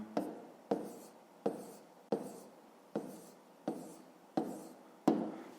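Chalk or marker writing on a classroom board comes as seven evenly spaced sharp taps and short scrapes, each quick stroke fading before the next, quiet and close with no voice over it.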